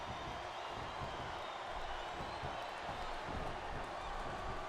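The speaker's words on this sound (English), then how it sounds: "This superstar is all fired up, and so is this capacity crowd." A capacity arena crowd in the WWE SmackDown vs Raw 2008 video game roars steadily, a dense continuous wash of cheering noise for a wrestling match, with no clear individual voices standing out.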